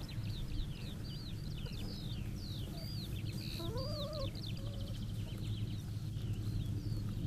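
Chickens on a farm clucking and calling continuously at close range, with a rising and falling cackle in the middle and a steady low rumble of barn noise underneath.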